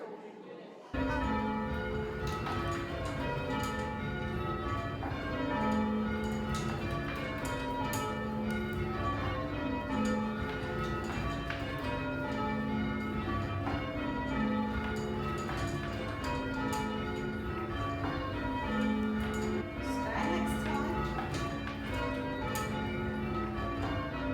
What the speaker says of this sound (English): You actually, both of you, go up to where the bells are, don't you, Mary?